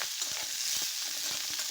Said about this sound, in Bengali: পেঁয়াজটা সামান্য পরিমাণ ভেজে নেব